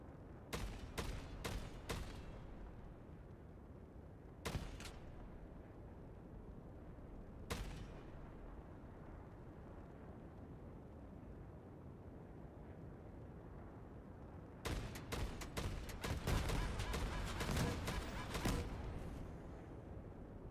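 Gunfire in a Ubisoft shooter video game: clustered bursts of sharp shots at the start, isolated single shots around five and seven seconds, then a dense volley near the end over a low rumbling background.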